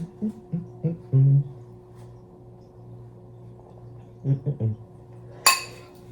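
A spoon clinks against a bowl of persimmon frozen custard, several light taps scattered in two clusters plus one sharper ringing strike near the end, close and clear, with faint background noise between.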